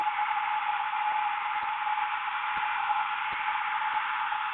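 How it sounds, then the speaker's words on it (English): A steady, even rush of cool, unheated air from a hair dryer runs throughout, with faint small ticks underneath and no talking. "This is just a cool hair dryer, no heat."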